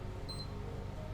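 A rice cooker signals that the rice is ready with one brief, high electronic beep, faint against a low, steady background hum.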